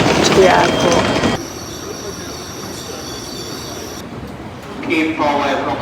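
A train in Japan rolls along with its wheels squealing in sustained high metallic tones, over a low rumble of rail noise. Muffled voices rise briefly at the start and again near the end.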